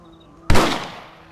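A single rifle shot cracks in the Red Dead Redemption video game, a sudden loud blast followed by a fading echoing tail over about a second.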